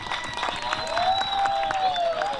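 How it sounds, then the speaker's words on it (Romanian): Festival audience at a folklore event applauding the jury, a steady wash of crowd clapping throughout, with a bright sustained tone and faint voices over it. "haideți să aplaudăm juriul"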